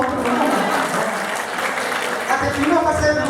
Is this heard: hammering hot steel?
no